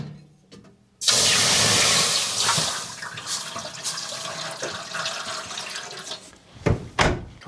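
Water poured into a hot oven holding bread gushes and hisses steadily for several seconds after a sharp start, then fades, followed by a couple of soft knocks near the end.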